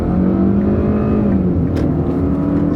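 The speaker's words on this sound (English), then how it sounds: "We'll take off fast." An economy car with a suspected engine misfire accelerates hard from inside the cabin, the engine droning loudly as its pitch climbs steadily, then shifts and climbs again.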